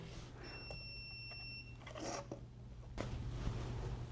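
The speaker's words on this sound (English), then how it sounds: "What the hell just beeped at me?" An electronic device gives a steady high beep lasting about a second during a concrete-casting project for a 3D-printed phone dock. The beep is fairly faint over low room hum, followed by some handling noise and no talking.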